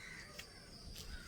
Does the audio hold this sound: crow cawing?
yes